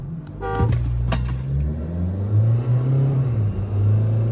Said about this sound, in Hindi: और 3 हॉर्न पे चलते हैं।